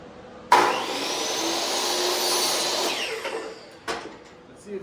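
Power saw cutting a board to length for a homemade wooden American flag, starting with a sharp onset, whining steadily through the wood for about three seconds, then spinning down, with a couple of clunks after.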